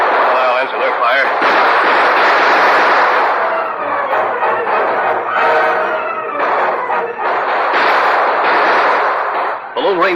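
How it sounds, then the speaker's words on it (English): Rapid revolver shots ring out in an old radio western, a dense, continuous volley of loud cracks and bangs stacked close together under dramatic narration and music. "The Lone Ranger and Tonto emptied their guns. With incredible speed, they reloaded and fired again."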